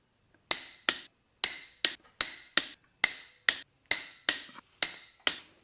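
Sharp metallic clicks from a torque wrench tightening cylinder head bolts on a fully built Subaru WRX long block, about a dozen crisp, loud snaps in uneven pairs with quiet gaps between, no talking.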